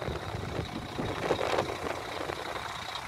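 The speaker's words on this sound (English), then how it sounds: "DAF engine" DAF diesel engine of a 2007 Van Hool T911 Alicron coach running, a steady broadband rumble and hum with a faint high whine, close and constant, with no talking.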